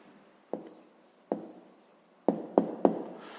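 A hand writes down a maths answer of numbers on paper, making several brief, close pen taps and strokes, the last ones coming quicker, with no talk.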